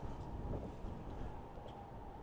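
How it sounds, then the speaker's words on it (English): A gust of wind buffets an open-ear earbud microphone outdoors, producing a low, steady rumbling whoosh at fairly quiet level with no talking. "Got a nice gust of wind going on."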